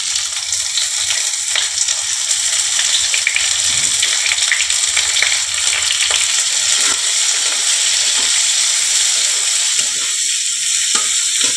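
Chopped onions dropped into hot oil with black cumin and white cumin for a Bengali puti fish tel jhaal, sizzling and frying loudly and steadily throughout, close up, with no voices.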